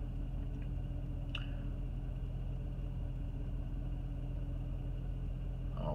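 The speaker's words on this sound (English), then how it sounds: "Okay, so now we're idling in park." A 2002 Jeep Grand Cherokee 4.7 H.O. V8 idling in park, a steady low engine rumble, even and constant, with a faint click partway through.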